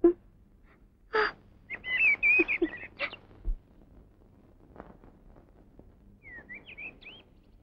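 Birds call outdoors in short chirps and whistled phrases, a cluster of sharp notes early on and fainter tweets later, over a quiet background with a few soft clicks.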